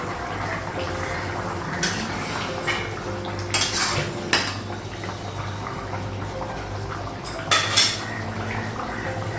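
A metal lid is lifted off a cooking pot of fish curry on a gas stove in a home kitchen, giving a few sharp clinks and clatters of metal against metal over a steady background hum.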